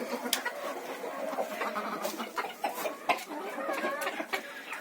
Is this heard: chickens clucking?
yes